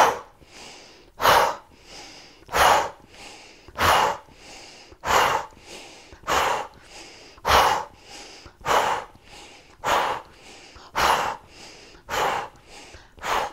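A deep breathing exercise done standing: about ten forceful, rhythmic breaths, each a sharp nasal inhale followed by a brief pause, evenly spaced, close and loud with no talking.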